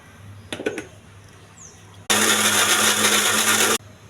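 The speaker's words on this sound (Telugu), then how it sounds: "మిక్సీ చేస్తున్నానండి" A mixer grinder loudly blends soaked lentil batter for pesarattu in a kitchen, running in one steady, harsh whir for nearly two seconds after a few brief knocks and clatters.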